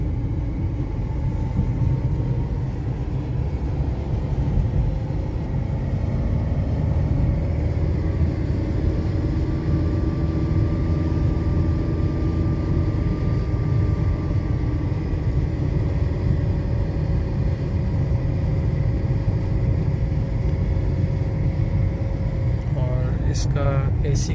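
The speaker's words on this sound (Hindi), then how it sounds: "गाड़ी की साउंड आप चेक कर सकते हैं कि रूम के अंदर इसकी" Steady low engine drone and road rumble inside the cabin of a running Suzuki Liana car, continuous and even throughout with the air conditioning blowing at full, no talk.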